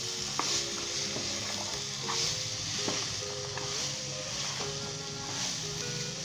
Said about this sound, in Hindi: और अच्छे तरीके से इसे मिक्स कर लेंगे।